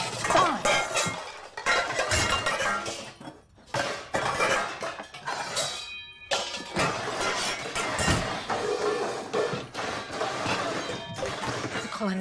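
A metal colander clattering and banging among dishes, pots and pans on a kitchen shelf, with repeated close crashes and clinks running continuously, loud and busy throughout.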